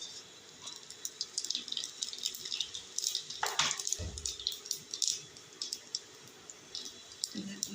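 Water is poured into a cooking pot for cumin rice, a splashing, gurgling flow with clicks and clatter of kitchenware, while someone talks over it.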